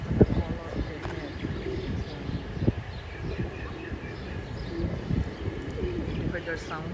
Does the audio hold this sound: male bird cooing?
yes